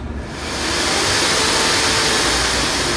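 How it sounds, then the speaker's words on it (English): Miele vacuum cleaner switches on and ramps up within half a second to a loud, steady whooshing whine, heard close and alone, with the brush roll not turning. "Turn it on for you here so you can actually hear it."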